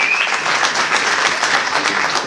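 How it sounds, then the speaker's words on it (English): Audience applause after a welcome address at a reunion gathering, a steady dense wash of many hands clapping that holds for the whole stretch with no voices over it. "give us a big round of applause for what we have done today."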